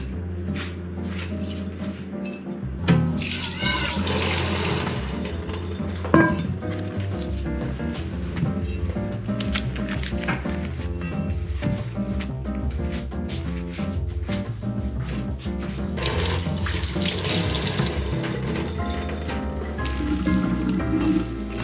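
Water runs and splashes in a kitchen sink as shredded potatoes are squeezed and wrung out by hand, giving a continuous close rush with wet squishing and dripping bursts, no talk.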